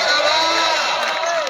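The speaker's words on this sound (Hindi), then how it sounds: "जोरदार तालियां" A crowd at a local cricket match in a stadium roars and cheers steadily, a loud, close wash of voices with whoops, and a commentator talks over it.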